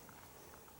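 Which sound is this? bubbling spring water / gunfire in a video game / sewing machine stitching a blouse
bubbling spring water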